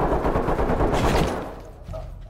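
A rapid burst of close, loud gunfire in the tactical shooter game Ready or Not, lasting just over a second before trailing off into quieter background noise.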